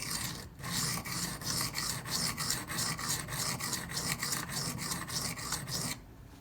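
A Benchmade 9400 Auto knife blade rasps against a small sharpening stone in fast, even back-and-forth strokes, close and continuous, with about a dozen distinct passes and a short pause near the end.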